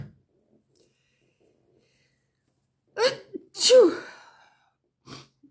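A single sharp sneeze after a long silence, with a sharp intake of breath just before and a brief sniff afterward.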